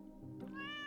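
A cat in the Stardew Valley video game gives a single rising meow that swells and holds, clear and close over a soft musical game background, with no talking.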